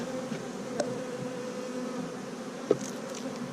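Honey bees buzz steadily throughout an open hive during an inspection, a continuous close drone with a couple of brief knocks from handling frames and no talking.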